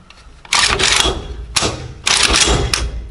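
Dry-fire function test of a Komrad 12-gauge shotgun: a few loud, sharp metallic clacks and snaps from the action and trigger, close up, with brief pauses between them.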